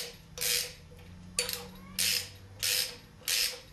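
A ratchet wrench tightens the bolts on a Nissan 240SX flywheel during a 5-speed swap: four or five close, loud bursts of rapid clicking, separated by short pauses.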